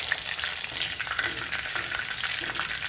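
Kerala-style prawn bajji frying in hot oil, a loud, dense, continuous sizzle and crackle up close, with no voices.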